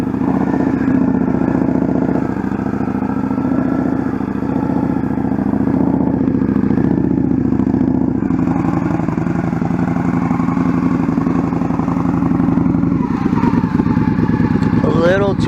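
A motorcycle in a rider-training braking exercise, with heavy rear-brake pressure, makes a loud, steady engine drone with a shift in tone partway through and a faint clatter near the end, while someone talks over it.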